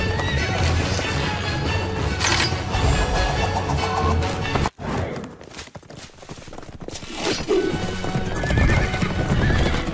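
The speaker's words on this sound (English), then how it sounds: "Horses are approaching. From the east." Several horses approach from the east with steady clip-clop hoofbeats and loud neighing and whinnying, a dense, close, continuous clatter with a brief dip midway before the galloping noise swells again.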